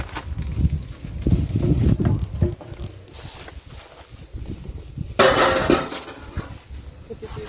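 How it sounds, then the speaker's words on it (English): Hard clattering knocks and metallic clanks come from a honeycomb frame being placed into a honey extractor during home honey extraction in Jamaica, with people talking nearby. "So I can just put it in my extractor."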